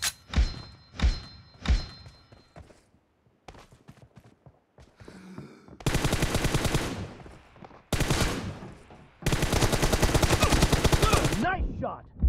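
Gunshots in a video game team deathmatch: three heavy single shots at the start, scattered quieter sounds in between, then long loud bursts of rapid automatic fire with short breaks, and brief voice callouts among them.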